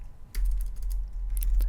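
Computer keyboard keys clatter during a Photoshop exercise, a sharp press followed by several quick light taps and clicks, close and clear with no talking.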